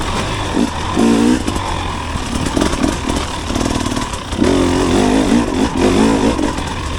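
A 2024 KTM 300XC-W dirt bike engine with throttle body injection revs nearby, its loud buzzing two-stroke note swelling in repeated throttle blips over a continuous running drone.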